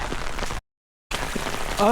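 Rain falling on a flooded hiking trail in Arkansas: a steady hiss of rain broken by a brief dropout, with faint voices underneath.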